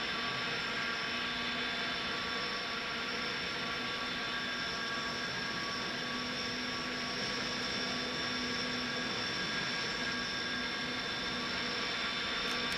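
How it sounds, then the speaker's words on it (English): Airbus A300 cockpit engine and system noise in the X-Plane 11 flight simulator, a steady, even hum and whine with faint tonal lines that lasts throughout, with no talking. "A very distinct sound as well on the A300."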